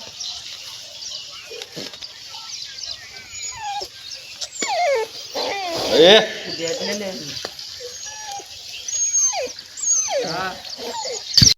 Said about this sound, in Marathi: विहिरीमध्ये कुत्रा पडलेला होता आणि आपण रेस्क्यू केला